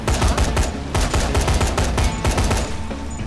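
Loud, rapid bursts of gunfire-like blasts rattle in quick succession after a grenade is thrown indoors in Dead Rising 3, filling the scene with dense, repeated cracks.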